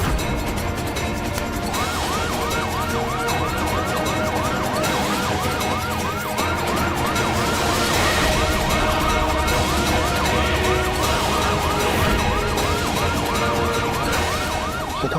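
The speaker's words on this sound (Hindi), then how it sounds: "अरे सायरन चालू कर" A police-style vehicle siren wails in steady repeating cycles, loud and close over continuous road and engine noise from a car being driven fast in a chase.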